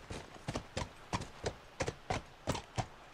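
Horse hooves clip-clop in a steady, evenly spaced rhythm in the video game The Last of Us, about a dozen crisp hoofbeats, close and moderately loud with no talking.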